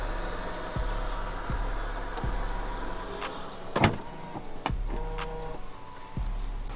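The power tailgate of a 2016 Range Rover HSE Sport closes with a steady electric motor hum, a series of light clicks, and a louder mechanical clunk near the middle as it latches.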